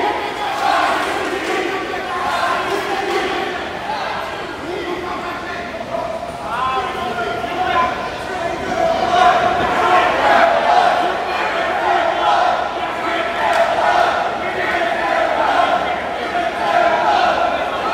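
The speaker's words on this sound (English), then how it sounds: "The crowd chanting for Gangrel to drink their blood." A wrestling crowd at a Saturday Night Slam show in Homestead chants for Gangrel, a loud rhythmic mass of voices filling the hall for a sustained stretch, with an announcer talking over it.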